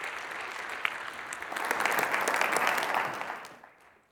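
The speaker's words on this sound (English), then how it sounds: "Please join me in applauding Patrick Lucey" Conference audience applauding a presenter at a sports analytics research paper session; clapping starts moderately, swells into a fuller burst of many hands, then fades away over about four seconds.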